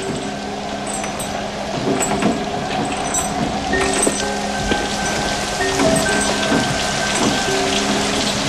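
Steady rain falls outdoors near a parked car, a dense continuous patter of drops on hard surfaces with occasional heavier drips and splashes, no talking.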